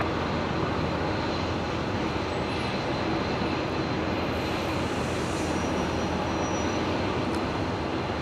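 A Hawker jet rolls along the runway at Brisbane International Airport, a continuous broad engine roar and rumble that stays level and moderately distant throughout, with no other sounds rising above it.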